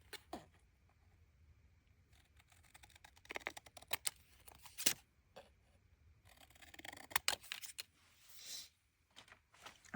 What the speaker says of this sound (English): Let's get my big scissors. We'll cut this up.